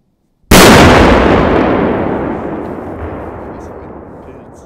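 A single sharp, very loud bang from a T-Wax firecracker that cuts in suddenly, followed by a long rumbling echo that slowly fades away.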